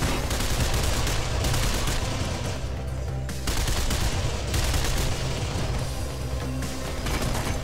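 Sustained automatic gunfire in the Mirror's Edge video game, a dense, loud, continuous rattle of shots with brief dips, no talking.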